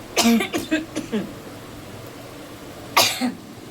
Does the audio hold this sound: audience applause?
no